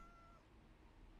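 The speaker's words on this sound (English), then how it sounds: "Why was there a cat noise?" A cat meows in the Minecraft video game, a single faint, thin mew that is brief and quiet and ends in a sudden louder noise.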